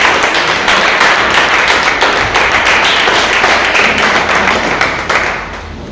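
Loud, sustained applause from many hands, with a few sharper claps standing out, that thins and tapers off near the end.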